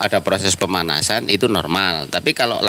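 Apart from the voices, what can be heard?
No everyday noise stands out behind the speech.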